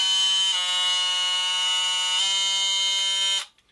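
A Dewalt oscillating multi-tool runs at maximum speed with a loud, steady, high-pitched whine, its tone shifting slightly twice before it cuts off abruptly near the end.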